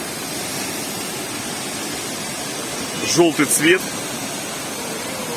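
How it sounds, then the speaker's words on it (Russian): Zolotoy waterfall in the Mendelikha waterfall park near Rosa Khutor, Krasnaya Polyana, a muddy-flow cascade, gives a steady broadband rush throughout, with a brief spoken phrase briefly rising over it near the middle. "Вот он, водопад Золотой."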